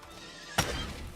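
A horse enemy in the Outward video game lets out one sudden, loud neigh that fades over about half a second, with faint game ambience before it.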